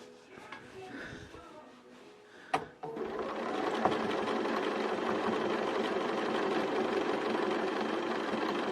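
Close up, a sewing machine runs a continuous stitching line across a quilt-as-you-go block, its steady whirring drone starting after a brief quiet lead-in with faint sounds, then holding at an even level.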